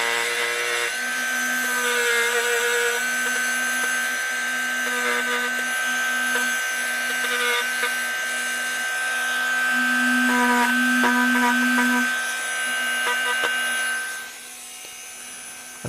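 A wooden snowman spinning on a wood lathe while a sanding pad is worked against it, giving a steady motor whine with a soft, continuous rasping hiss that swells and eases, then drops off near the end as the lathe slows.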